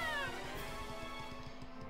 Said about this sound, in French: Voici mon chat.